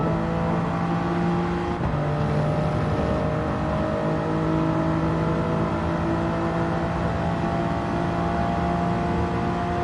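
A race car engine accelerates in a racing video game, giving a steady, loud, sustained drone with strong harmonic tones and a brief shift in pitch near two seconds before it settles again.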